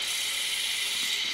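Small homopolar motor powered by a 9-volt battery, spinning at close to 10,000 rpm, gives a steady high-pitched whirring buzz with a faint ratcheting texture, continuous and alone for the whole moment.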